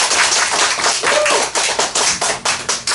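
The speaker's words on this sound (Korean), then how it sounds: "최 선생님께 박수 한번 드리겠습니다" A seated audience at a vegetarian nutrition lecture claps for the cook who prepared their meal, with brisk, close, fairly loud clapping that thins into separate claps toward the end.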